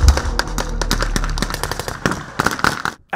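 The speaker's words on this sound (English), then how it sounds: "gunfire signals the start of a joint military operation" Rapid bursts of gunfire crack repeatedly during a joint military operation in the desert, some shots close and sharp, others overlapping in quick volleys, with a low rumble underneath.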